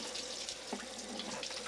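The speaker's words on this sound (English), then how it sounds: "let me rinse all this off" A kitchen tap runs steadily as food is rinsed off under the stream, a continuous close splashing hiss with small shifts in the flow and no talking.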